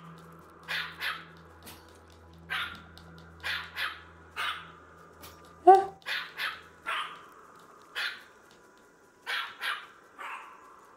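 Yorkie barks in a video game dog mod, short high yips repeated in pairs and small clusters across the span, fairly close and clear over a faint low hum, with a brief sneeze-like burst midway.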